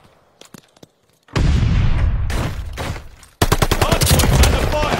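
Loud bursts of rapid gunfire and heavy blasts at a contested hardpoint in a World War II shooter game set in the bocage, arriving in dense overlapping volleys after a few quiet scattered shots.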